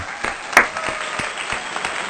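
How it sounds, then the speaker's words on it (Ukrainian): A stadium crowd applauds players after a football match, a steady wash of clapping and crowd noise with a few louder claps standing out. "Ці оплески, ці оплески на честь гравців Славі"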